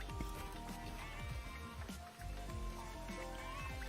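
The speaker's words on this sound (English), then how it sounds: "we've just got to run right up under here and take shelter from the rain" Steady rain pours down in a video game world, a dense continuous hiss with scattered impacts and sounds of footsteps or movement mixed in, with a brief dip in intensity midway.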